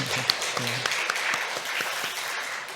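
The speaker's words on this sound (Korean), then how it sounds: "우리 격려의 박수 한번 쳐드리도록 하겠습니다." A church congregation at a Sunday morning service claps in encouragement for newly appointed officers, steady moderate applause filling the space for a few seconds.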